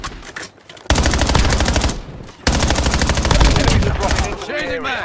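Rapid automatic gunfire in the Call of Duty Warzone battle royale on the Haven's Hollow map, loud dense bursts of machine-gun fire running almost continuously after a brief pause, with a short gap before the shooting resumes.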